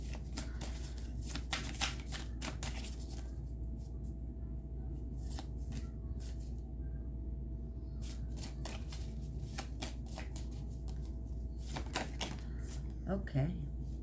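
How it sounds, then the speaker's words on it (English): Cards being shuffled for a card reading, repeated crisp riffling bursts over a steady low hum, fairly faint and close. "Now let's go ahead and draw one card."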